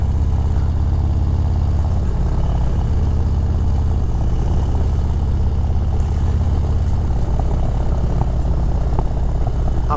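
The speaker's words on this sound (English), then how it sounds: "A pleasant backfire burble on the decel. I just love that noise." Loud, steady engine roar from a 2023 Harley-Davidson Road Glide ST with a Stage 4 135 motor, continuous and close throughout with a faint crackling burble on deceleration, and no speech.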